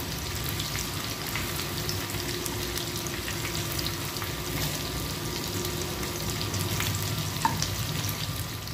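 Tofu frying in a pan for a Filipino dish with water spinach, a steady close sizzle and crackle running throughout with one small clink near the end.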